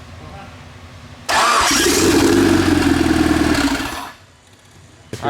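A 2.3 stroker engine in an Evo wagon cranks and catches on its first start, roaring up loudly and steadily for a couple of seconds before settling down, close by.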